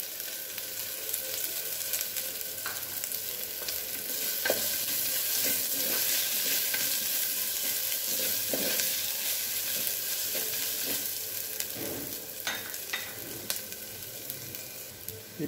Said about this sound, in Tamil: லைட்டாக சாப் பண்ணி வச்சுருக்க புதினா போட்டுக்கிறேன்.